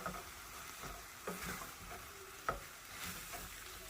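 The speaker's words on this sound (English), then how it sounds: "I'm going to saute the potatoes along with the cooked ground beef" Potatoes sautéing with cooked ground beef in a pan over medium to medium-high heat, a steady low sizzle and crackle with a few sharper stirring knocks, close by, no talking.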